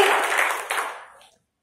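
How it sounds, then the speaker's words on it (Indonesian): A short burst of audience clapping during a Q&A talk, dense at first and then fading out within about a second. "Tepuk tangan loh."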